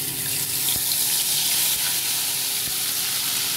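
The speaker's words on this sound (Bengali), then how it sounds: "একটু জল দিয়ে দেবো।" Water is poured into a hilsa fish curry with mustard paste cooking in oil, giving a steady close hiss and sizzle with a faint clink and no speech.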